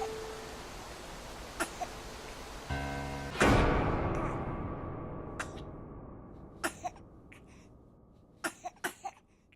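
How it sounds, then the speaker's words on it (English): In the video game The Cat Lady, a woman coughs and chokes in a few sharp bursts, with a loud impact-like swell in the middle and a quiet, reverberant background. "She started coughing and choking."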